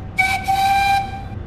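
Steam engine Sheffield approaches, sounding a clear whistle with two steady tones that holds for about a second over a low rumbling background, then fades.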